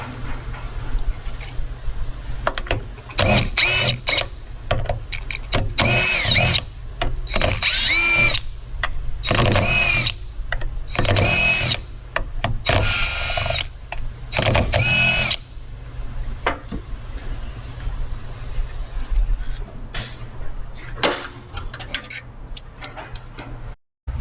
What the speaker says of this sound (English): Now we're going to take out the rest of the bolts there.